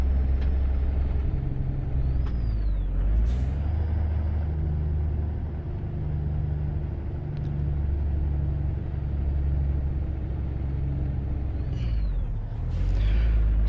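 A modded Kenworth W900 in a trucking video game idles with a steady low diesel rumble throughout, with a few brief hissing air-brake bursts near the start and end.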